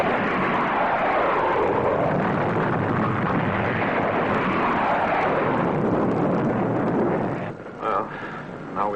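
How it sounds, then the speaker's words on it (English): Missile launch in a 1954 science-fiction space serial: a long, loud roaring rush of rocket exhaust that fills most of the stretch, then drops away abruptly near the end. "Fire missiles!"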